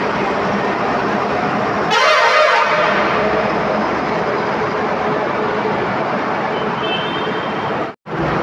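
One short, blaring honk from a vehicle horn cuts through steady road and engine noise on Akhota Bridge in Vadodara, then the constant rumble continues.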